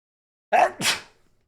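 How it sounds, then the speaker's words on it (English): One close, loud human sneeze with a sharp intake, then an explosive burst that trails off into silence. "I have to sneeze now."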